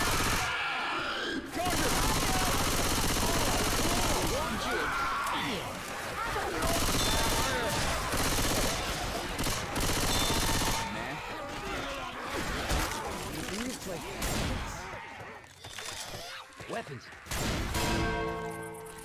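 Gunfire aimed at armored zombies in a video game: dense bursts of rapid shots and crashes go on almost without a break, with brief gaps, and voices talk over the shooting now and then.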